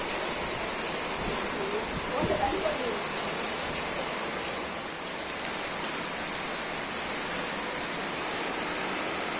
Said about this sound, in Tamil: சரியான மழை சாயங்காலம்.